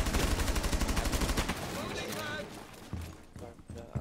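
Video game gunfire: a fast rattling run of automatic shots opens the clip loud and close, then gives way to quieter scattered pops with a voice speaking over the later part.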